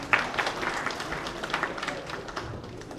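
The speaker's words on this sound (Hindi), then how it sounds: "एक बार जोरदार तालियां प्लीज" Audience applause at an award function for a coaching institute, greeting a guest of honour: a dense, steady patter of many hands clapping through the whole stretch, moderately loud with a faint murmur of crowd noise underneath.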